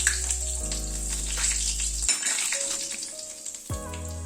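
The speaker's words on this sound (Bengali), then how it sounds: "ওই তেলে হাফ টিস্পুন মেথি ফোড়ন দিলাম। আর একটা তেজপাতা ফোড়ন দিলাম।" Fenugreek seeds and a bay leaf sizzling in hot oil left from frying paneer, a continuous crackling sizzle close by, overlaid with sustained musical tones.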